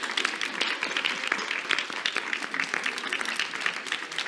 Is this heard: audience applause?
yes